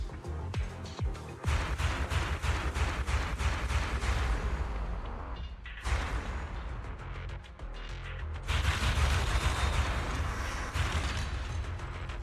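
Rapid gunfire from an escort unit suppressing ethereal enemies in the video game Zenless Zone Zero, dense bursts of shots running loud and continuous with a short lull midway, backed by game music and effects.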